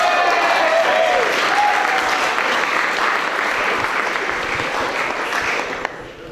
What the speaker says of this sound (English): they look beautiful and deserve a round of applause